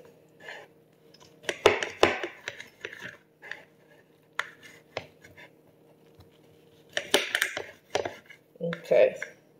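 A knife slicing through ginger and lemon on a board, giving a few sharp cutting knocks and scrapes spread across the moment, with a person talking intermittently over the cuts.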